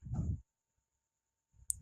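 A single sharp computer mouse click, made while setting up a Gmail account, lands amid a man's speech and stands out close and brief after a short silence.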